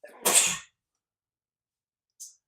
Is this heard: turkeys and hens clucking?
no